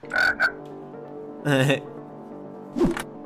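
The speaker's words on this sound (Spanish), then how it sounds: "¿Le tiene miedo una rana?" Croaking frog sounds from a Minecraft-style video game, a few short bursts spread over a few seconds, with a voice reacting in between.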